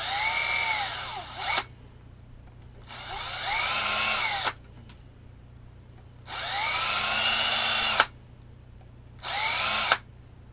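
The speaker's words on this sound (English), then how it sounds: "I'm going to continue very carefully drilling these holes." A power drill whines in four separate bursts while drilling holes in PVC pipe, each a few seconds long with rising and falling pitch, separated by short quiet pauses.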